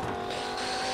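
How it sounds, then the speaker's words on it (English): A Lamborghini's engine roars in a video game, a loud sustained high-revving drone with a steady tonal whine, heard close and alone for a moment. "This is my Lamborghini."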